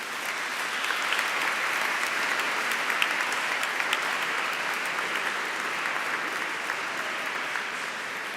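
A congregation applauds inside the cathedral of Vittorio Veneto during a Chrism Mass, an even, sustained wash of many hands clapping at moderate loudness without a break.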